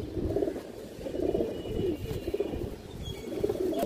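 A red Lalchuri female pigeon coos in a low, soft, repeated murmur, the burbling calls rising and falling steadily across the moment against quiet background noise.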